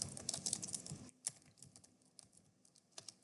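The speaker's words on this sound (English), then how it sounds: "I'm typing my name." Rapid typing on a computer keyboard, a dense flurry of key clicks that thins into a few scattered keystrokes, quiet and close.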